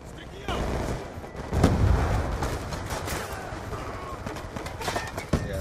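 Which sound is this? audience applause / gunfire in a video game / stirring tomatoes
gunfire in a video game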